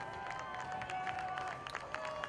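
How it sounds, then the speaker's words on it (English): Crowd applause and cheering at Donna Larson Field before a Capital Eagles versus Centennial high school football game, steady, moderately distant clapping that fills the stadium for the whole stretch. "Let's give a big round of applause for our future Eagles at Fairmont football team."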